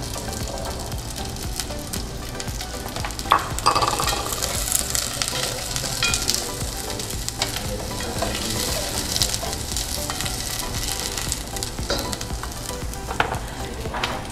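A steady, dense sizzle of onions and garlic frying in oil in a pan, continuous and fairly loud, with occasional faint clinks and stirring scrapes.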